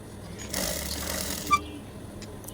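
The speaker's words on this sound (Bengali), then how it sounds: "এরকমভাবে একটি সেলাই দিয়ে দিব" A sewing machine stitches folded ribbon onto a sleeve in one short, quiet whirring run of about a second, set against faint room noise.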